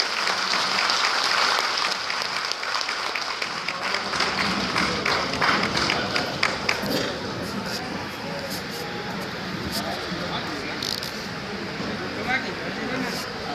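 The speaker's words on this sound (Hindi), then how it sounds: "श्रीमान प्रदेश अध्यक्ष श्री सिकंदर पासवान जी को जोरदार ताली से स्वागत करें आप सब" A crowd at a village gathering in Patna gives loud applause to welcome a state party president onto the stage. The dense clapping is strongest in the first half, then thins into scattered claps amid background crowd noise.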